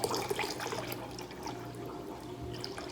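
Alcohol pouring into half a cup of water, a soft, quiet liquid trickle and splash that starts a little stronger and then settles into a faint, steady flow.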